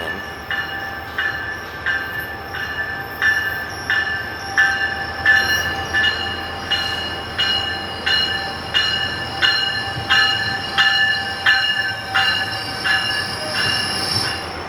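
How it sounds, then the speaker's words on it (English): A train rolls past with a steady rumble, rhythmic wheel clatter and high metallic squeals ringing throughout, loud and close, with no talking. "Another train."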